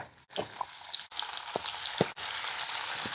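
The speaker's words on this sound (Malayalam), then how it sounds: "എണ്ണയൊക്കെ നന്നായിട്ട് ചൂടായപ്പം നമ്മുടെ മീനെ പെറുക്കി അങ്ങോട്ട് ഇട്ടേക്കാം." Fish shallow frying in hot oil hisses and crackles steadily for a few seconds, close and loud, with brief pops and a couple of sharp clicks breaking the sizzle.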